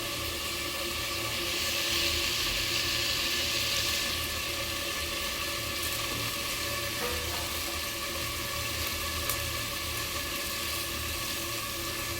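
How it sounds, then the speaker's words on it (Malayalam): Curry leaves drop into hot oil for a chicken curry masala with ginger-garlic paste, giving a steady, even sizzle that holds at moderate loudness throughout with no talking. "കറിയുടെ മസാല റെഡിയാക്കാൻ ഇഞ്ചി വെളുത്തുള്ളി പേസ്റ്റ് ആദ്യമായ എണ്ണയിലോട്ടൊന്ന് ഇടണം കുറച്ച് കറിവേപ്പില"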